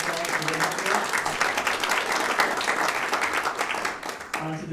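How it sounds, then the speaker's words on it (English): A round of applause for parents at a school student-of-the-month presentation, many hands clapping in a lively, rhythmic patter that swells and then fades near the end, with a voice briefly audible. "So let's give you all a round of applause."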